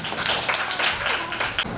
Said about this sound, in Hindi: चलो उसके लिए ताली बजाओ.